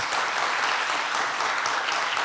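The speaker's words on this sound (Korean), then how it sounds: "우리 박수 한번 쳐주셔요." A church congregation claps together at a first-anniversary thanksgiving service, with full, even applause lasting the whole moment.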